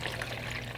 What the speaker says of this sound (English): So I use a large collapsible water container, pour some fresh water in there.